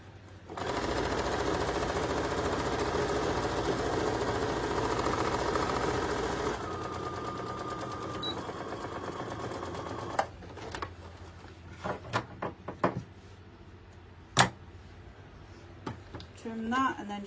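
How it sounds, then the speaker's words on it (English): Sewing machine stitching two fabric pieces of a headband together, a steady continuous whir for several seconds before stopping, followed by scattered handling clicks and taps. "Okay, so I'm just going to sew these 2 pieces together."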